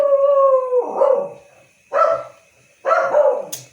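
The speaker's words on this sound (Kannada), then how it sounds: "ಒಂದು ಕಡೆ ನಮ್ಮ ರೂಬಿ ಬೊಗಳುತ್ತಾಳೆ," A dog barks three times close by, the first drawn out almost into a howl, with short pauses in between.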